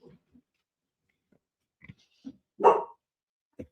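Mishka the dog lets out a few short, close barks and grunts in a quiet room, with one louder bark standing out among the softer sounds.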